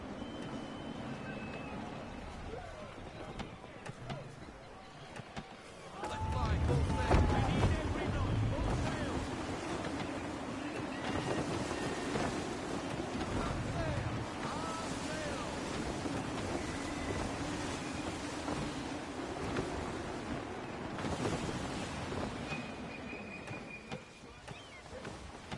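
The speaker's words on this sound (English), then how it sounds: "Wind looks to be shifting. Stay alert, Connor. Gusty winds can be difficult to manage." Gusty wind and rolling waves while sailing a ship in Assassin's Creed 3, a broad steady rush of wind and water that swells louder partway through and holds, with a voice speaking over it.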